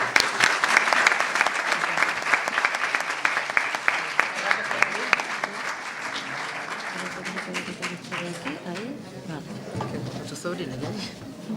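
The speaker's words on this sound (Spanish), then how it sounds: "Vamos a darle un aplauso, ¿no?" Audience applause at a round-table event about a 1970 flood, loud sustained clapping that gradually thins and fades, with voices and speech emerging toward the end.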